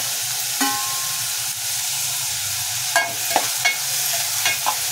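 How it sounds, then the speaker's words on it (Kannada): Tomato and coriander fry in oil with a steady, close sizzling hiss throughout, broken by a few brief clicks and scrapes of stirring. "ಒಂದು 5 ನಿಮಿಷ ಕಾಲ ಎಣ್ಣೆಯಲ್ಲಿ ಚೆನ್ನಾಗಿ ಫ್ರೈ ಆಗಲಿ."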